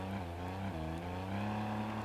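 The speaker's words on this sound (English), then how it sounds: "now we can come over to our car, hop on in" A car drives in the Disney Infinity 3.0 game DuckTales level, a steady close engine drone with a slight pitch rise and no speech.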